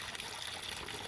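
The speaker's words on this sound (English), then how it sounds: "we're going to just fetch some water in our container." Water trickles and splashes into a container outdoors, a brief soft pouring sound at low volume.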